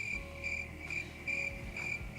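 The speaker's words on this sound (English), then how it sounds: "Look, crickets." Crickets chirp in regular, evenly spaced bursts, about four pulses over two seconds, clear and steady above a low background rumble, with no voices.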